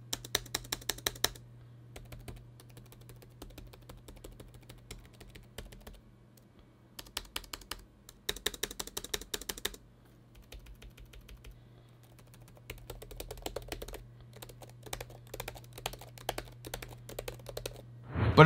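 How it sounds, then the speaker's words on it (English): Typing on a Gateway laptop keyboard with slightly clicky keys gives bursts of quick, close key presses separated by short pauses, with a faint steady hum underneath. "It feels like it has some sort of clickiness in the key presses."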